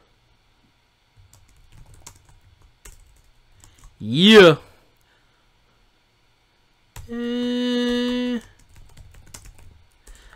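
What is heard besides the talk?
typing on a computer keyboard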